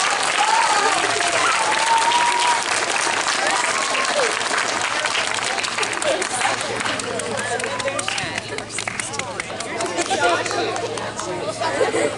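An audience applauds members of a school chamber choir as they receive certificates, steady sustained clapping mixed with chatter and crowd murmur throughout.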